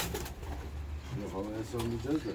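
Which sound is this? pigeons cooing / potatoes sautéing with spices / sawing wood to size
pigeons cooing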